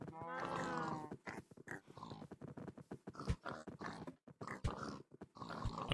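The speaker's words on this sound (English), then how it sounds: "Fucking pigs." Pigs in Minecraft, GTNH modpack: a series of short snorting grunts and squeals in quick irregular bursts, fairly close, with a voice talking among them.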